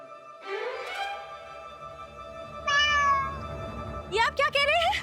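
A cat meows three times in a drama scene, each cry drawn out and tonal, close and clear against a quiet background, with a short gap between the second and a rising final call.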